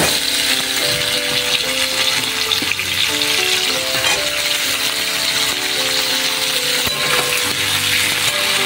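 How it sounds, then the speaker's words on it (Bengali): Potatoes and drumstick pods sizzle steadily in fish oil in a home kitchen pan, a loud, continuous crackle with faint stirring knocks and a soft melody running underneath. "তারপর আলু আর সজনে ডাঁটাগুলো ভেজে নেব।"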